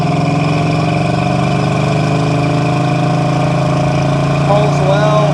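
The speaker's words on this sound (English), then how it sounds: "I will say there is definitely an exhaust leak." A 1965 Pontiac GTO with dual exhaust and an exhaust leak runs at a steady, loud idle close by, its even, throbbing rumble holding constant, with a slight rise in revs near the end.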